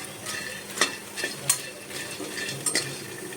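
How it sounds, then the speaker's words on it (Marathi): Fox nuts (makhana) dry-roasting in a pan over low heat, stirred with a utensil, giving soft scraping and a few sharp clinks of metal against the pan at irregular intervals, fairly quiet and with no talking. "एक वाटी मखाने एकदम स्लो गॅसवर चांगले ते भाजून घ्यायचे"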